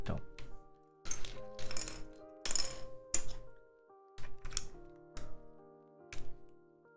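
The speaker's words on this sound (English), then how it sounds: "It's a keyboard and it sounds like a gasket keyboard." A gasket-mount mechanical keyboard is typed on in short bursts of close, muted clacks with pauses between them, while background music plays underneath.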